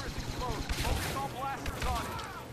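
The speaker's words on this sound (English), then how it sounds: "Machine gun time!" Machine gun fire in the Star Wars Battlefront (2015) beta, heard as rapid bursts of blaster-like shots with whining, pitch-sweeping tones over a rumbling battle din, with a voice speaking faintly underneath.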